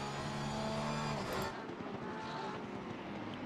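Race car engines in a GT3 endurance sim racing game at Zandvoort, a loud, continuous engine drone with shifting pitch and a car passing by, heard alone without talk.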